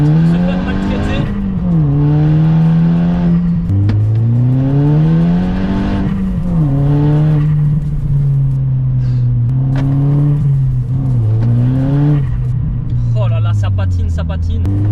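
A Stage 2 Volkswagen Polo tuned to 370 hp accelerates hard with wheelspin, the engine revving high and dropping through gear changes, loud and close, with someone talking over it.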